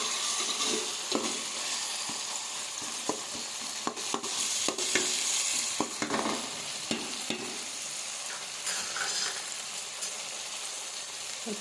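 Ginger garlic paste and tomato fry in a pan for bagara rice, giving a continuous close sizzle with frequent spoon scrapes and taps as the mixture is stirred.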